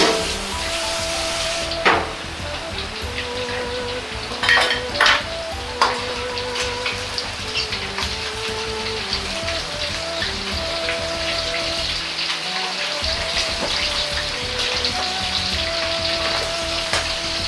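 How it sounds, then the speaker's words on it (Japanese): Shrimp deep-frying in hot oil for a shrimp and potato gratin, a steady bubbling sizzle with scattered pops and crackles that carries on throughout, fairly close and with no voices. "エビが浮いてきたら油から引き上げます。"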